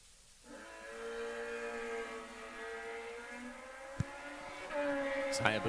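Suzuki Hayabusa drag-racing motorcycle held in low gear, its engine droning at a steady high rev with rich harmonics for several seconds before a sharp pop and a rising surge near the end, heard from a distance over faint announcer talk.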